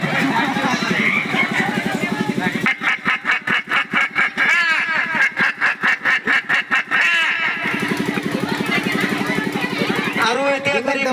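A voice imitates a hen cackling after laying an egg, a loud, rapid run of clucking calls in bursts, with a buzzing, engine-like tone under parts of it.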